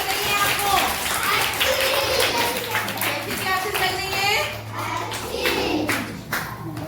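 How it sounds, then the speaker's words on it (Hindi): Schoolchildren at a government school clap for their teacher, a steady patter of small hands close by, mixed with chatter and an adult voice talking over it. "सभी बच्चों मैडम के लिए एक ताली बजाइएगा।"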